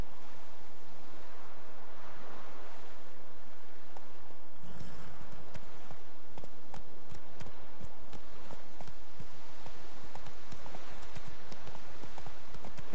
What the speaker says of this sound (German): Da ist auch schon mein Pferd, ne?